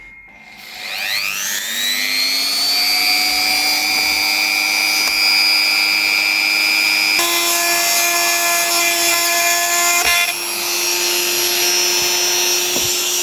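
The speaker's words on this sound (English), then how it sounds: "I want to drill out those a little bit," A small power drill bores out holes in a model aircraft engine cowl, a steady high-pitched motor whine rising as it spins up, running continuously and close with slight pitch shifts and a brief dip near the end; no talking.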